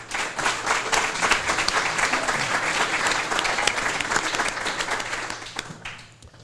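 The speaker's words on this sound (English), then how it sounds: "Please give our panel a round of applause." A summit audience gives a panel a sustained round of applause, dense steady clapping filling the room for several seconds before thinning out at the end.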